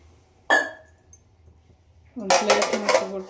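Water splashes into a pan of cluster bean stir-fry, starting with a sharp metallic clink and then turning into a loud, bubbling hiss and sizzle from the hot pan.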